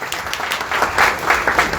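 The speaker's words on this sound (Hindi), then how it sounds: "और जोरदार तालियां." Loud, close audience applause for a prize winner at an award announcement, dense irregular clapping throughout with no voices on top.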